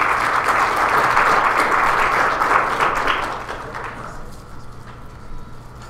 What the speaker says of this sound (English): Let's have one more round of applause for our speaker